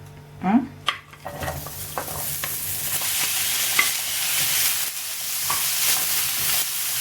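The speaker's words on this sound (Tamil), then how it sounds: "இந்த எல்லா காயும் போடுறேன் வதக்கிறதுக்கு." Vegetables dropped into hot oil in a pan give a few knocks and clatters, then settle into a loud, steady sizzle with occasional stirring scrapes, close by.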